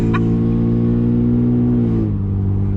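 A deep, loud exhaust from a decatted 2019 Ford Raptor pickup truck drones steadily with a throaty rumble, then the pitch drops slightly as it settles near the end.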